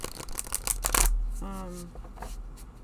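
A tarot card deck is shuffled in a rapid, crisp flutter of card clicks for about a second, close by, followed by a brief voice sound and quieter handling noise.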